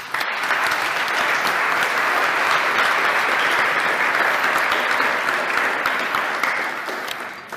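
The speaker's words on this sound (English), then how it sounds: "And a very short applause for Raimund." Conference audience at a PowerShell security talk breaking into steady applause, a dense wash of clapping that holds for several seconds and then tapers off at the end.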